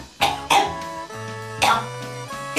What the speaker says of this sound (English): Turn your head to the side and cough.